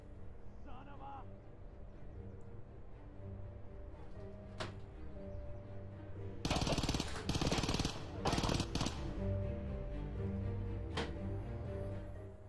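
Bursts of automatic gunfire in the shooter game Escape from Tarkov, a dense loud volley of rapid shots mid-clip followed by scattered single shots, over steady background ambience.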